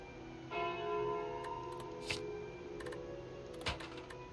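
In the Slay the Spire card game, the Calling Bell relic chimes with clear, bright bell strikes over a quiet background, followed by a few short clicking interface ticks.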